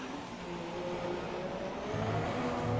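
An F1 race car engine from the game F1 2017 holds a steady, moderately loud whine that climbs slightly as it accelerates, with no voices over it.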